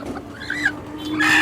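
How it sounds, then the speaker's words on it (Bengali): A native desi chicken at a market clucks in a short run of close, nasal calls that rise toward a louder, sustained squawk at the end. "এই কি দেশি মুরগি একবারে দেশি মুরগি"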